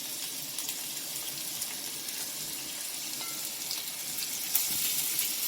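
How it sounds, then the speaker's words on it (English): Food frying in a pan at a home stove, a steady broadband sizzle and crackle running throughout at moderate level, swelling slightly louder near the end, with faint water-like hiss mixed in and no talking. "I'm going to put this in the pan and then reduce the heat"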